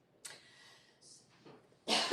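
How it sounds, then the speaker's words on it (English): A person coughs at a town hall meeting, a faint burst near the start followed by quieter breathy sounds and a louder, harsh cough at the end, in a quiet room. "I'm sorry I just coughed into my hand"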